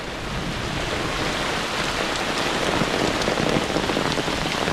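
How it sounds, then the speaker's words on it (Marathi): Heavy monsoon rain pours down in a village, flooding the fields, and it comes through as a dense, steady roar of drops on surfaces with no pause and no voices. "आज तर मुसळधार पाऊस"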